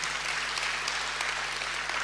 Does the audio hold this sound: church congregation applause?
yes